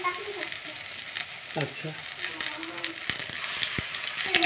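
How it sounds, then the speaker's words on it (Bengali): Pumpkin flower fritters fry in hot oil with a steady, close sizzle and crackle, while a few stirring knocks and a brief spoken word sit over the frying. "ভগবান রাধা গোবিন্দের জন্য কুমড়ো ফুলে বড়া হচ্ছে মা, কুমড়ো ফুলের বড়া।"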